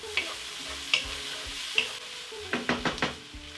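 Onions frying in a pan, seasoned with salt and pepper, give a low steady sizzle with a few spoon scrapes and a quick cluster of stirring strokes near the end, close and without speech.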